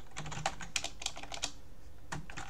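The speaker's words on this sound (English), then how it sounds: "Just open the browser and type Windows" Typing on a computer keyboard while entering a search in a web browser, a quick run of close, clicky keystrokes in uneven bursts, with a short pause before a final few taps.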